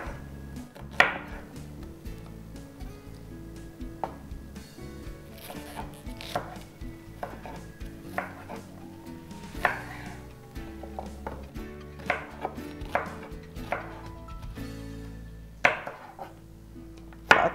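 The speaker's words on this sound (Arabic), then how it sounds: "هقطع البصل،" A knife chops onion on a cutting board in irregular bursts of sharp taps, some quick runs of strokes and some single knocks, close up with no talk.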